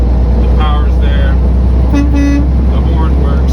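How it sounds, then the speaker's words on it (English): A used semi truck's horn gives two short, loud blasts over the steady rumble of the idling engine, heard close up inside the cab. "The horn works."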